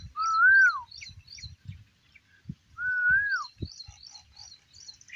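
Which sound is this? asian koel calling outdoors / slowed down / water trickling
asian koel calling outdoors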